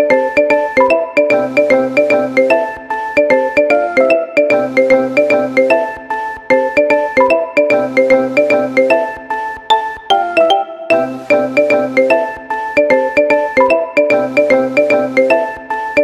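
A bright, marimba-like ringtone melody plays in a loop, its plinking mallet notes repeating the same cheerful phrase several times without any voices.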